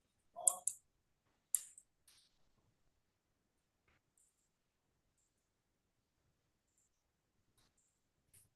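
A few sharp computer mouse clicks sound close by near the start, two quick clusters followed by scattered faint ticks and long stretches of near silence, with no talking.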